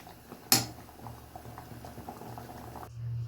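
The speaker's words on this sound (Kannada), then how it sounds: "ನೋಡಿ ಕುದೀತಾ ಇದೆ." Onion flower sambar bubbling in a pot, a steady low simmer with soft popping, plus a sharp clatter near the start.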